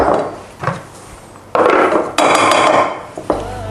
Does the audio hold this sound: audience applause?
no